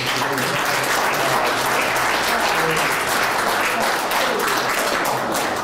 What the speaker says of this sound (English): let's give a round of applause for